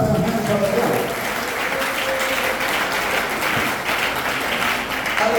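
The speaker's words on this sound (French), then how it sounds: "Clap your hands for the Lord" A church congregation clapping their hands for the Lord during a sermon, continuous dense applause that stays loud and close for several seconds, with faint voices mixed in beneath the clapping.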